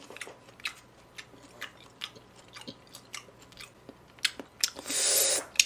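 Close, wet chewing and biting of same-day slaughtered raw beef sashimi, scattered squishy chomps and smacks at a quiet level, ending with a brief louder rustling burst.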